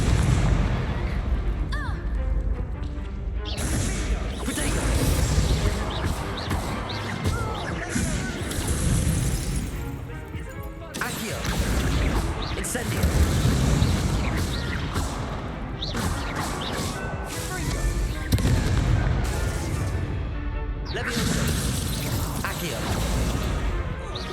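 Spell blasts in a Hogwarts Legacy magical duel: bursts of crackling, booming impacts and whooshes in several dense waves separated by brief lulls, loud and close, with a voice calling out throughout.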